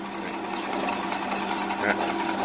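HERO HR-812C 8-inch metal-cutting band saw running in a workshop, a steady rapid mechanical chatter and hum at close range, continuous throughout.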